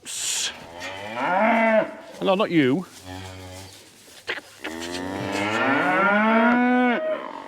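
Cows and calves moo repeatedly on a farm, loud and close, in long drawn-out calls, while someone speaks briefly between them.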